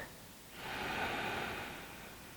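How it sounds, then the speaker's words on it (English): A single slow, deep belly breath drawn in through the nose, soft and close, swelling then easing off in a quiet room. "we're just going to start lowering or closing the eyes and breathing into the belly"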